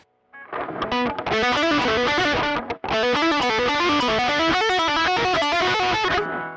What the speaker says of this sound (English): with the lead guitar sound, I think it will sound something like this